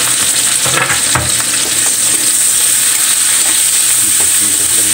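Garlic, onion and green chili fry in a pan with a loud, steady, close-up sizzle. A few faint stirring scrapes break through the continuous hiss, with no talking.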